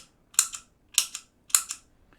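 A guitar effects pedal's old-fashioned clicky footswitch is pressed three times at an even pace, each sharp double click close and loud against near silence.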